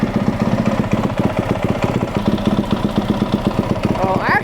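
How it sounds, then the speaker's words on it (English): A Yamaha WR250F dirt bike engine runs at a steady idle after starting, its rapid even firing pulses loud and close throughout, with a brief higher-pitched rise near the end. "Let's fire the thing up, let it warm up a little bit"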